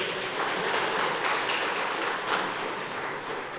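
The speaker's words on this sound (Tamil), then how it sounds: "எல்லோரும் கைத்தட்டி வரவேறுங்க" An audience of former 1983 SSLC students claps steadily to welcome a dancer onto the floor, a dense, continuous wash of hand claps sustained at even loudness throughout.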